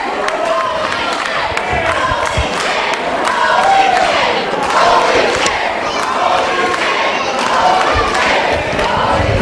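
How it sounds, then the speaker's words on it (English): A wrestling arena crowd roars and yells after one wrestler flips another off the ring apron, loud sustained cheering with scattered shouts and a few thuds, voices rising and swelling throughout. "The crowd says it all"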